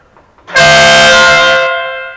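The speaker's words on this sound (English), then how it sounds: "any golf cart with clearance lights wouldn't be complete without an air horn" A single loud, blaring golf cart air horn blast, close by, holding steady for about a second before cutting off.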